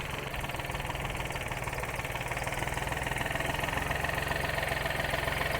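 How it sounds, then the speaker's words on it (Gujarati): A tractor engine idles on a farm in a steady, close, rhythmic chug with a constant mechanical hum and no break. "દેવાનસિંહ પપ્પાને ટ્રેક્ટરે બંધ રાખ્યું નથી ચાલુ જ"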